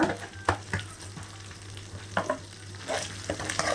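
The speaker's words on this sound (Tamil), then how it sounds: "நல்லா இஞ்சி பூண்டு பேஸ்ட் நல்லா வதக்கணும்" Ginger garlic paste and curry leaves sautéing in oil, with a low background sizzle broken by several sharp spatula knocks and scrapes against the pan, close and fairly quiet.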